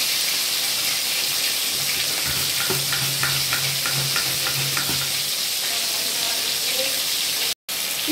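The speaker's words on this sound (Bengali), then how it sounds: "চিংড়ি মাছটা আমার এখানে ভাজা হতে থাক," Prawns frying in a pan give a steady, close sizzle and crackle, with brief stirring clinks and a low hum in the background.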